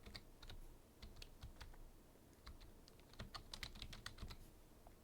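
Typing on a computer keyboard in quick, confident bursts of sharp, close clicks, with short pauses between runs over a faint low background hum.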